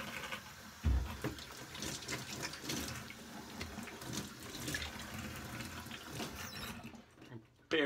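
Running water from a tap splashes steadily over a shaving brush loaded with coffee pumpkin latte shave soap lather, continuous and close, ending with a brief burst as the flow changes.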